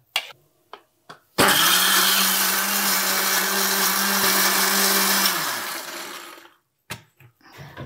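A kitchen mixer grinder blends ginger chutney in a loud, continuous whir of about four seconds that winds down to a stop, framed by a few soft knocks and taps before and after.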